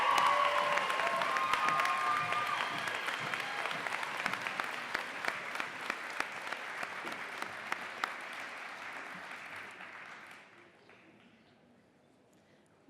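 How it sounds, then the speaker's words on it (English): Applause from the audience at a winter nurses' recognition ceremony fills a large room, steady at first with faint voices underneath, then slowly dying away to near silence. "We have one round of applause."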